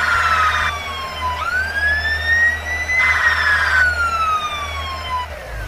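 A fire truck siren from a kids' car video game wails in rising and falling sweeps, loud and clear over a low engine hum, with no talking.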